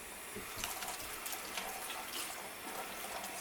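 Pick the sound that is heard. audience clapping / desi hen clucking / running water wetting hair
running water wetting hair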